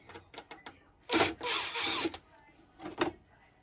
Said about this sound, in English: So we're just gonna take those screws out.